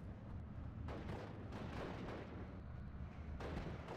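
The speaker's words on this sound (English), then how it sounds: "Now notice that I'm receiving some very long-range artillery bombardment." Long-range artillery bombardment in the World War II strategy game Steel Division Normandy 44, with several deep, rumbling impacts booming through a dense, continuous roar of battle.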